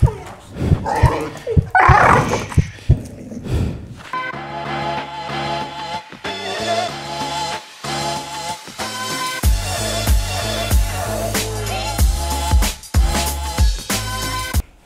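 A dog on a leash yips, barks and whimpers in short excited bursts, loud and close. Background music enters partway through and plays under the dog's cries.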